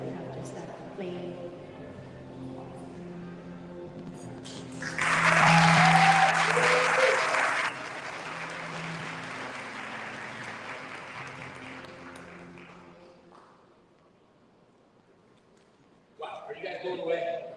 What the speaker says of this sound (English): we should absolutely give a round of applause to those nominees